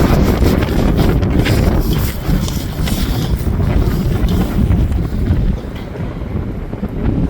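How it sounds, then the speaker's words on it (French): Cold wind in a Quebec snowstorm roars and buffets hard and close against the microphone, a dense, steady rush with gusty swells that eases slightly near the end. "Regardez ça, le vent."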